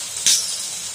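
Chicken pieces with liver and gizzard frying in a pan on the stove, giving a steady close hiss of sizzling oil with one brief louder burst near the start.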